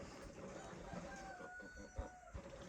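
A young rooster of an American breed on a small farm gives a faint crow or a few clucks amid quiet yard ambience, heard at some distance.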